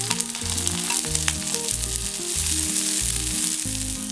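Finely chopped ginger and garlic hit hot oil on a high flame for Indo-Chinese chilli soya chunks. A loud, continuous close-up sizzle runs throughout over a low droning tone.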